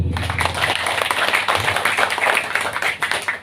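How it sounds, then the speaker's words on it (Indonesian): A gathering in a religious assembly applauds its leader, a dense, steady wash of many hands clapping for a few seconds, with faint voices mixed underneath. "Tepuk tangan buat beliau"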